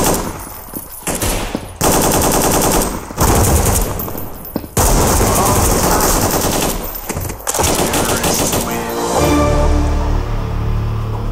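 Loud, close bursts of automatic gunfire rattle in rapid volleys, separated by brief gaps, ending with a lower rumbling tail.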